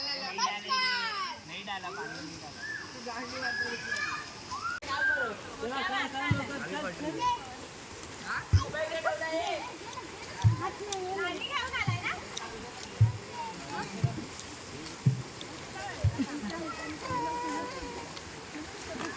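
Children play in a river, their voices and shouts continuous while several sharp splashes from jumps into the water land at intervals, over a constant background wash of flowing water.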